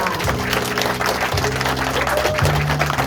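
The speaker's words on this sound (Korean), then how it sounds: "큰 응원의 박수 부탁드리겠습니다" Audience applause at the opening of a candidate's election campaign office in Gumi, steady and fairly loud for the whole stretch, with tonal music or a held voice running underneath the clapping.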